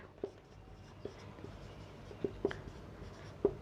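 Chalk or marker tapping and scratching on a board during a Class 12 physics lecture on Coulomb's law, several short sharp taps spread unevenly over quiet room tone, no speech.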